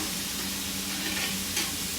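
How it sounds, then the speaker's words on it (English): Mushrooms grill in a pan, giving a loud, steady sizzle with some stirring noise throughout. No one speaks. "Here in the same pan, I'm going to grill my mushrooms."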